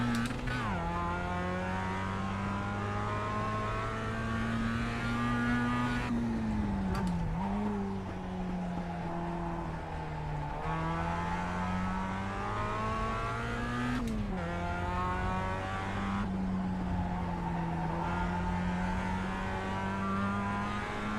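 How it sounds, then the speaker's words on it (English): Mazda MX-5 race car engine in the iRacing sim, a steady high drone that rises and falls with gear changes and throttle lifts, with occasional dips near the 7- and 14-second marks, continuous and close throughout without talk. "I have not driven this MX-5 in iRacing for months."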